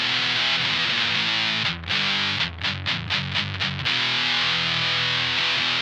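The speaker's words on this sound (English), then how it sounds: "So our dirty tone is a Boss Metal Zone." Heavily distorted electric guitar through a Boss Metal Zone pedal playing thick, saturated chords and a choppy muted riff, loud and buzzy with no voices.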